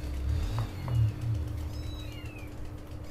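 Several kittens in a cramped rented room mew in short, high, thin calls. A few overlap near the start and more follow later, close by over a low steady hum.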